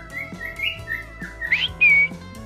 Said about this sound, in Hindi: बेशरम की तरह सीटी भी मारते मेरा बाबू